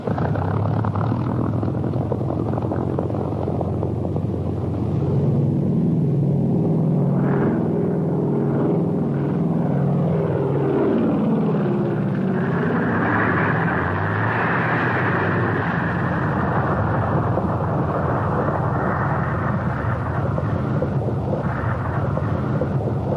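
A 1940s primary trainer aircraft's propeller engine drones steadily in flight during a cadet's first solo, a dense continuous rumble that holds loud throughout without letting up.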